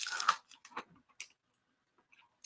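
A few crunchy bites of a snack, chewed close up in short bursts during the first second, then fading to faint scattered crunches with long quiet gaps.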